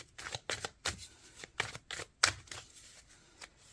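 A card is drawn from a tarot deck: a quick series of crisp, close paper snaps and shuffles, about a dozen sharp bursts in uneven rhythm, quiet, with no voice.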